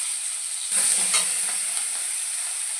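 Cumin tempering with onion and garlic paste frying in a pan for a brinjal dish: a steady high hiss of oil that briefly swells into louder crackling sizzle, then settles back.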